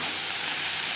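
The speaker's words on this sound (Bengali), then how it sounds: "লবণ হলুদ দিয়ে 3-4 মিনিট শিম ভেজে নেব" Flat beans frying in a pan with salt and turmeric give off a steady, close sizzle, an even hiss that holds without a break from start to end.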